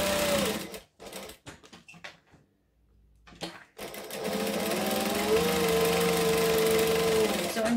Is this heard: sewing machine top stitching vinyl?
yes